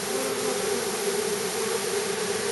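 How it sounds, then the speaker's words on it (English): A swarm of honeybees crawls back into the hive, producing a steady, dense buzzing drone that stays close and continuous with no voices over it. "All the scout bees are out here, headed back towards the inside."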